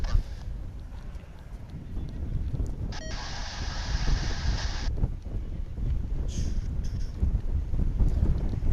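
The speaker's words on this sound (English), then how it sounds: "It's gotten very gusty here all of a sudden." Gusty wind blows at an airport and buffets the microphone in a steady, rumbling roar that swells and eases, with a brief brighter hiss in the middle and no talk.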